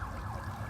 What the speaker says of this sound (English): nice silent sirens here in Hollywood